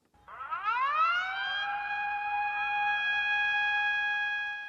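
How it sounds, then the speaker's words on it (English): A single tsunami warning siren in a coastal region of northern Japan after a powerful offshore earthquake winds up from a low note to a steady, loud, piercing tone and holds it. "Sirens blared in coastal regions earlier today after a powerful earthquake struck just off of Japan's northern coast."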